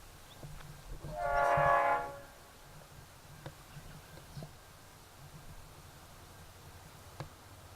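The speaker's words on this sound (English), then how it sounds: "Is there a train coming?" A train horn sounds once, a single brief blast at a distance, followed by a low rumble and a few faint clicks in the quiet.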